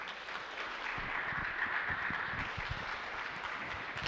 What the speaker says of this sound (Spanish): vamos a dar, por favor, fuertes aplausos